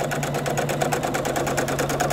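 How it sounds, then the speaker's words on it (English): A sewing machine stitches an inner border onto the long side of a crib-size quilt, running as a steady, fast, rhythmic mechanical whir and hum that stays close and even throughout. "start sewing that inner border to the long side of your quilt"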